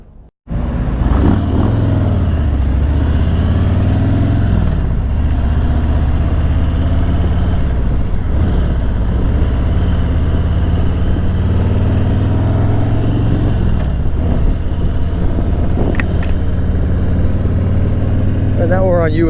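A Harley-Davidson motorcycle rides along US 19 in Port Richey, its engine a loud, steady, close rumble for nearly twenty seconds, rising and falling in pitch as it shifts through gears, with wind noise over it.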